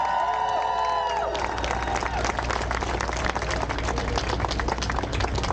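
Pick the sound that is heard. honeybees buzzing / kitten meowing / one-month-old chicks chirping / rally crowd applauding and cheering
rally crowd applauding and cheering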